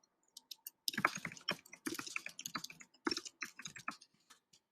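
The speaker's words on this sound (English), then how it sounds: "Apparently I can't type that well" Keys clatter on a computer keyboard in quick irregular bursts of clicks with short pauses between them, close and fairly quiet, with no voices.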